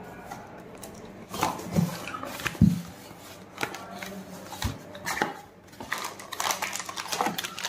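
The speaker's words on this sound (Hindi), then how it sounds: "अब इसको अनबॉक्स करता हूँ जल्दी से और आपको मैं खोल के दिखाता हूँ" Cardboard box and plastic wrap being opened by hand to unpack a self starter motor for a TVS Apache motorcycle, with scattered rustles, taps and crinkles close by and brief murmurs of speech.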